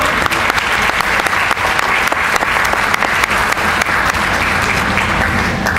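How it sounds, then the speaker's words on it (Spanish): Sustained audience applause at a Chilean academic presentation on civic education research, dense steady clapping filling the room from start to finish with sharp individual claps standing out, no talk over it. "Un aplauso."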